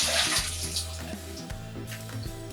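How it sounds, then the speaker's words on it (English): Running tap water pours steadily close by, with a hollow splashing as a chuck roast is rinsed under the stream. "Just rinse this out and dry it off."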